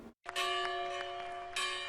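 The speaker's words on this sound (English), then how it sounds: "With the ringing of the 130-year-old Freedom Bell, President Obama officially dedicated the Na" The 130-year-old Freedom Bell rings at the dedication of the National Museum of African American History and Culture, two clear resonant strikes with a long sustained hum between them.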